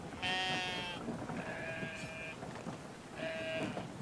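In the video game Brothers: A Tale of Two Sons, a sheep gives three distinct, loud bleats with clear pitch, spaced about a second apart, over a steady background of ambient noise.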